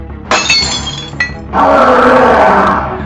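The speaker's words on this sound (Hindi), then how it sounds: "तभी कांच तोड़कर सोनिया अंदर घुस गई" A car window's glass smashes with a sharp, crackling shatter and a clinking tail, then a loud, rough roaring rush sweeps in and holds to the end.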